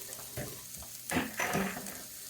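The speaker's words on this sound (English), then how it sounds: "Let me give that a stir" Hamburger meat cooked with garlic and Italian seasoning is stirred in a pan, a few scraping strokes over a soft sizzle, close and moderately loud.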